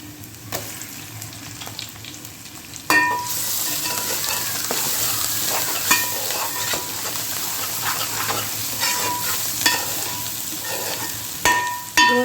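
Onions frying in a pan for a Godavari village-style fish curry: a quieter sizzle with scattered clicks, then a louder, steady crackling fry from about three seconds on, broken by a few sharp utensil taps near the end.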